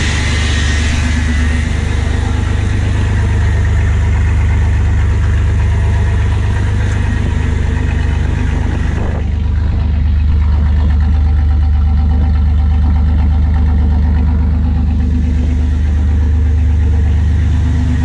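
A 1998–2004 Chevy S10 pickup engine with a performance intake idles loudly and steadily close by, a deep rumbling drone with a faint intake hiss and a slight dip partway through.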